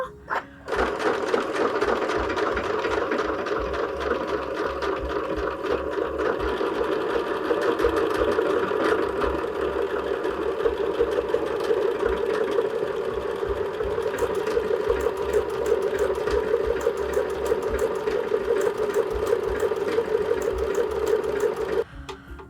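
A sewing machine runs steadily as it stitches a decorative stitch onto a robin cushion cover, a close, continuous mechanical whir with rapid needle rhythm that runs almost the whole time and stops near the end.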